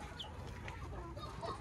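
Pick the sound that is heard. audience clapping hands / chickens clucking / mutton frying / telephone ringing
chickens clucking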